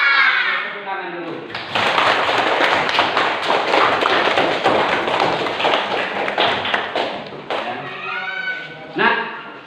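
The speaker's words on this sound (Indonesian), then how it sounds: "Tepuk tangan dulu." Children in a classroom clap their hands together in a long, dense burst of applause that lasts several seconds, with a teacher's voice speaking before and after it.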